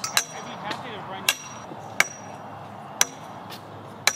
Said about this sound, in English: Nice even pop with the hammer, just to get it started.